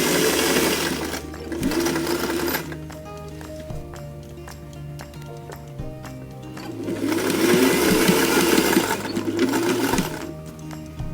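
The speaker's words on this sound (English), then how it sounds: "We're back stitching." Sewing machine back stitching a gathered dress seam during a one-shoulder dress alteration, running in two loud sustained bursts with a quieter pause of mechanical ticking between them, close up with no talking.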